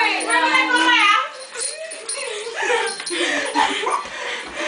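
Small dog whimpering and yipping in high, wavering cries at the start, then quieter as people talk and move about nearby.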